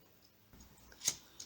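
A single quick scissor snip trims excess cord from a beaded macrame friendship bracelet, a short crisp cut in an otherwise quiet moment with no talking.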